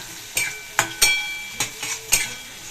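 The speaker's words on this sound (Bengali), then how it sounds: "আর 1 চিমটি লঙ্কার গুঁড়ো দিয়ে ভালো করে আবার নাড়াচাড়া করে" Carrots and peas with chilli powder fry in a pan while a spoon stirs them, producing five or six sharp scraping clinks against the pan over a soft, close sizzle.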